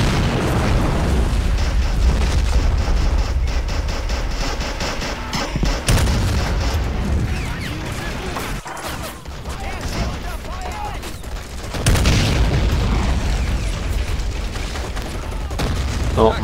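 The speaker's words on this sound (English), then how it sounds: "all three of you need to throw some grenades" Grenade blasts in the World War II strategy game Men of War: repeated loud booms and gunfire bursts over rumbling battle noise, with sharp explosions recurring across the scene.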